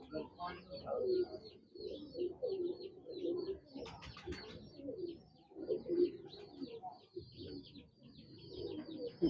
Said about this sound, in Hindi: ये टैडी है जी, मियाँ साहब वाले सलारे कबूतर